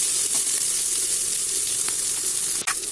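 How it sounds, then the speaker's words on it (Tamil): Onions sautéing with green chillies and curry leaves for a fish curry, a steady close sizzle with a few soft stirring taps and a sharp clatter near the end. "சேர்த்து பச்சை மிளகாவும் சேர்த்துட்டு இதை வந்து நல்லா வதக்கிடுவோம்."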